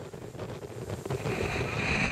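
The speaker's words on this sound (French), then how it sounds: "Seul à bord du trimaran géant Banque Populaire 7, celui qu'on surnomme le Chacal déboule dans l'Alizé de l'Atlantique Nord." Wind and rushing water surround the giant trimaran Banque Populaire 7, a 31.5 m VPLP design sailed single-handed through North Atlantic trade winds, a steady close roar of hull spray and gusts that swells slightly toward the end.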